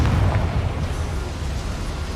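A loud, sustained explosive rumble from the Confringo blasting spell in a Harry Potter video game, a booming burst that stays dense and roaring for about two seconds without fading.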